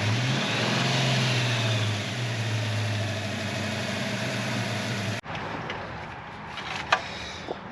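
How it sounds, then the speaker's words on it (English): SN95 Ford Mustang GT V8 idling with a steady low rumble, then the engine cuts off abruptly, leaving quiet outdoor background with a couple of brief knocks. "Okay, give it a little gas."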